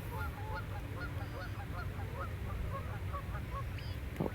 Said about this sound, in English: I do find these geese aren't as mean as the ones at Sunset Park